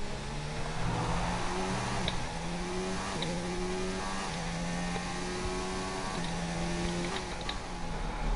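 A Williams Formula 1 car engine in the F1 2019 video game, racing in Austria, screams steadily at high revs, its pitch repeatedly climbing and dropping through gear changes in a continuous loud whine.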